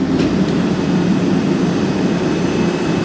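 A Chrysler Turbine Car's turbine engine, already warm, runs with a loud, steady jet-like roar and a deep rumble, close by and unbroken, no voices over it.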